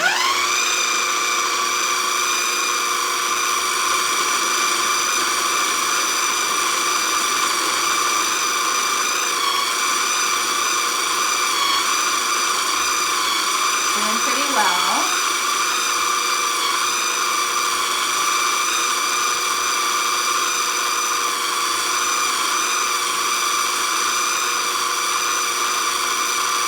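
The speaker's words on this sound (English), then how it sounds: "We'll see how this goes in this food processor." A food processor blends wild greens into pesto with a loud, steady, high-pitched motor whine that runs unbroken and close for the whole stretch, with only a brief warble in the middle.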